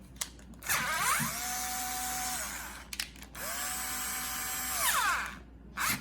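A Bosch IXO cordless screwdriver runs in two long whirring bursts, motor pitch sweeping up on start and down on release, close and loud with brief clicks between runs.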